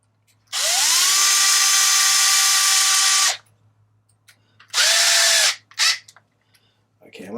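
A cordless power drill drives a bolt into the differential of an Arrma Typhon RC car. A loud, close whine lasts about three seconds, then a shorter burst and a brief blip follow, with quiet handling in between.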